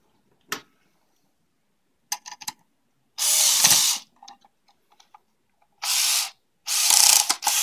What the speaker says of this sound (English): And we'll put in the screws.